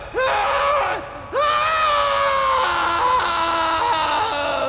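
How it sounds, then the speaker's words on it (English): A man screams in Prince of Persia: The Sands of Time, two loud, drawn-out cries, the first cut short and the second held for several seconds, close and dominant over faint background. "Well, at least he will stop fucking screaming."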